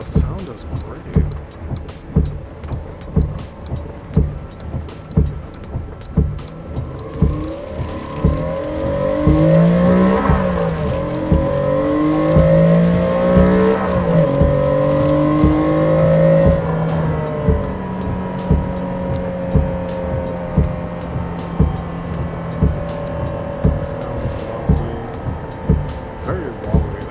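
Honda NSX engine in the Assetto Corsa racing game, rising and falling revs over regular pulsing engine beats, swelling to a sustained climbing roar midway, with someone talking over it.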